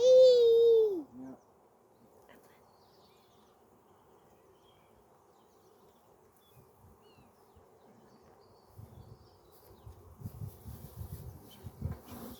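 A colony of British black honey bees in a hive gives off a faint, steady low buzz throughout. A brief voice-like tone opens the stretch, and soft rustling and handling noises rise toward the end.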